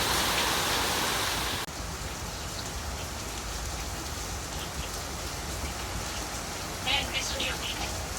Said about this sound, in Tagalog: Uwan man din.